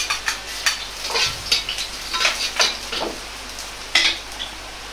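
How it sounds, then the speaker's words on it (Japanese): Ginger sizzles and crackles in about half a tablespoon of hot oil in a well-oiled pan, with repeated scraping stirs of a utensil against the pan in an irregular rhythm. "生姜を炒めていきます。"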